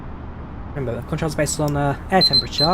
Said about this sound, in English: Whoops. That's my alarm there,